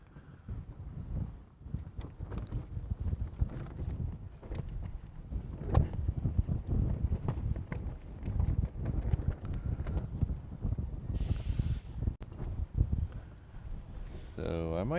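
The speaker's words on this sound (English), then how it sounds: "this wind is really picking up" Strong wind buffeting the microphone at an outdoor plane-spotting spot in Honolulu, heavy low rumbling gusts that rise and fall for the full fifteen seconds, with a person talking underneath.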